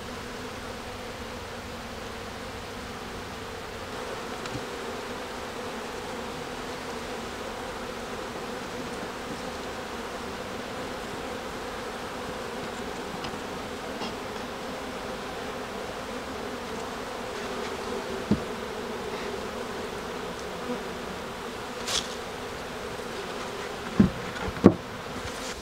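Honey bees buzzing around beehives during winter preparation, a steady dense hum from many insects nearby, continuous with a few faint knocks toward the end.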